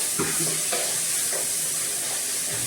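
Steady sizzling of tomatoes frying in a pan for a crab dish, with a few soft stirring scrapes and knocks over the constant hiss.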